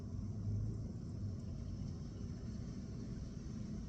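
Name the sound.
car pulling out of a house driveway in rain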